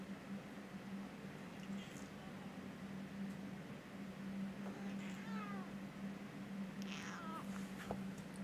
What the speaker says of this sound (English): You can hear Cat Yerpy complaining again.